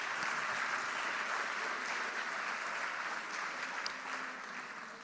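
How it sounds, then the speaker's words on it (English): An audience at a December 2024 master's graduation ceremony applauds the faculty with steady, dense clapping that holds throughout at an even level, with no talk over it. "I would like to ask a big round of applause for all our faculty"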